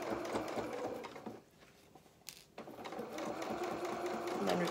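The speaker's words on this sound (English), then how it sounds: "And then we're going to sew, carry on sewing down." Sewing machine stitching fabric for a beginner's fisherman's top, running in steady rapid bursts with a brief pause mid-way before resuming loud and close.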